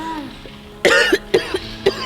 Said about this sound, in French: Pourquoi je commence à tousser ici?